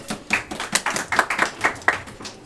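Audience clapping for debate teams at a university debating tournament quarter-final, a loose series of distinct, sharp hand claps with irregular rhythm, fairly close and moderately loud.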